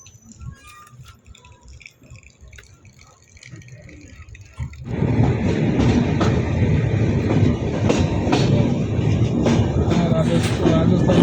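A passenger train pulls into Jaipur railway station at night. Soft, distant rumbling builds into a loud, close clatter of wheels and carriages that continues steadily to the end.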